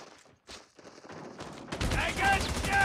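Video game gunfire breaks out in the second half as a loud burst of rapid shots, after quieter sounds and game radio chatter at the start.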